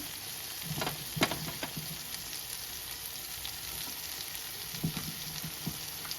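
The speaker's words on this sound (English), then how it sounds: "Now I'm gonna add all the cabbage in and give it a mix." Cabbage and corned beef sizzle steadily in hot oil, with a few clattering scrapes as the mixture is stirred, heard quietly and without talk.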